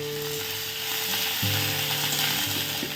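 Ginger, green chili and tomato sizzle in a hot pan for khichuri, a close, steady frying hiss with a few soft stirring scrapes and a low background hum.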